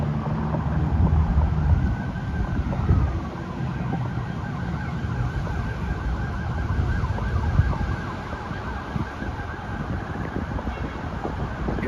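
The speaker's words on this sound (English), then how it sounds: "Gotta have some sirens." Emergency vehicle sirens wail continuously, rising and falling over steady road traffic noise near a Washington, DC courthouse, fairly loud the whole time.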